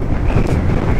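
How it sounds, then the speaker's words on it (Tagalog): Loud, steady wind buffeting the microphone on a beach coast during a typhoon, recorded from a Honda PCX 160 scooter, roaring continuously with deep rumble and no gaps. "Hangin!"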